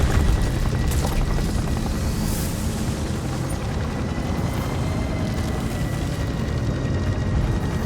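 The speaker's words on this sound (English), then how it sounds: "Pulling back the helicopter due to the severity of the storm." Helicopter flying through a severe ice storm in the video game Gotham Knights, a loud continuous rotor roar with wind and deep rumbling that holds steady throughout.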